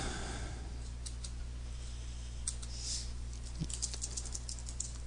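Soft, scattered clicks of a computer keyboard being typed on, faint and irregular over a low steady hum, with a few quicker bursts of keystrokes toward the end.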